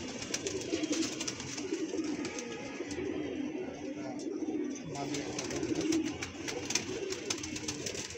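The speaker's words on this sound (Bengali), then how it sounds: "এটা আমাদের সুন্দরী জিরাগোলা একটা কবুতর" Pigeons in a new pigeon loft coo softly and repeatedly, a low throaty rolling sound that carries on steadily throughout amid faint chirps, with a quiet voice talking now and then.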